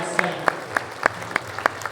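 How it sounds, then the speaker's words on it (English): An audience at a dinner dance performance claps in sparse, scattered bursts. The individual claps are fairly close, and talk runs faintly underneath. "Give me a round of applause."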